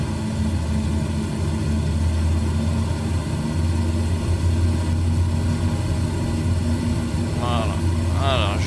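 A Lockheed Electra 10A's engine drones steadily at low revs as the aircraft taxis across a grass field in a 1935 Le Bourget flight-simulator scene, an even, continuous hum with voices briefly heard near the end.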